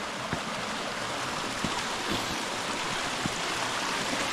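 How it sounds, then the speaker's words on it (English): A canyon waterfall in San Bernardino pours steadily, a continuous broadband rush of falling water close by with no voices. "Another waterfall, waterfall number 3."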